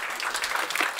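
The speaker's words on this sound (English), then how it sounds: "Applaud." An audience at a science summit applauds in a dense, steady wash of clapping hands, fairly close and continuous through the whole short moment.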